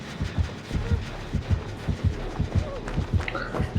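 Heartbeat effect in the Dead by Daylight Mobile video game: a steady double-thump pulse repeats at a quick, even pace, loud and close, with faint game sounds in the background.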